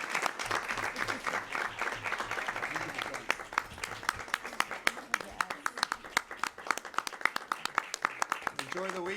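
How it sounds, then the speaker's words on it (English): Audience applause at a board of trustees information session, a steady wash of clapping across the room that grows sparser and more distinct toward the end, with voices mixed in. "Let's give them one more round of applause."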